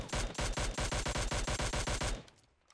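Mini14 rifle gunfire in the PUBG Mobile game: a rapid burst of about a dozen loud, close shots packed into two seconds, then a short fading tail.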